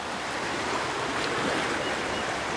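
Water rushing steadily through a creek that was widened and fitted with a new bridge, now running high enough to overflow; a broad, continuous wash of flow close by with no talking.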